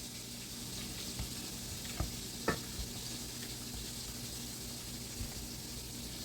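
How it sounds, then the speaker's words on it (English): Steady hiss and sizzle of cube steak frying in a hot pan, with a few soft clicks and taps over the constant crackle. "while my steak is cooking, while that's frying"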